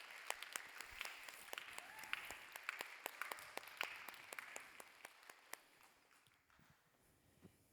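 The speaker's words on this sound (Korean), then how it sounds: "박수로 맞을까요?" A church congregation claps to welcome a departing pastor at a Sunday youth service, a thinning patter of individual claps that fades toward the end.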